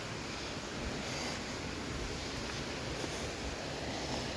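A river in the Catskill Mountains rushes in a constant, loud, broadband wash of flowing water with no voices.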